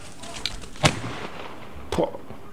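Two gunshots at a wild boar driven hunt ring out about a second apart, booming across open ground while voices murmur in the background.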